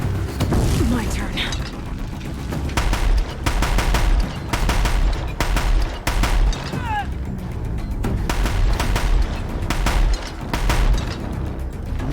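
Rapid bursts of gunfire in Horizon Zero Dawn crack out in repeated loud volleys with mechanical clatter between them, while someone talks over the shooting.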